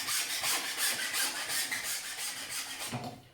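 A PVC drain pipe is cut with a handsaw, producing steady rhythmic rasping strokes, close and clear, ending with a short knock as the piece comes free, with no talking.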